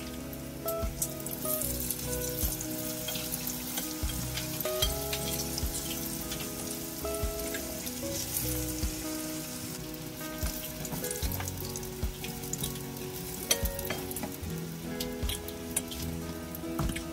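Cottage cheese pancake batter sizzles and crackles steadily in a hot pan, a continuous frying hiss with small pops throughout and no talking.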